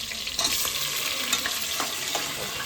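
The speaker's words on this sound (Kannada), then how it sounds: "ಈ ಟೊಮೊಟೊ ಮತ್ತು ಈರುಳ್ಳಿ ಸ್ವಲ್ಪ ಚೆನ್ನಾಗಿ ಫ್ರೈ ಆಗುತ್ತಲ್ಲ" Tomato and onion frying in oil for vegetable biryani, a dense close sizzle with stirring scrapes, steady and loud with no voices.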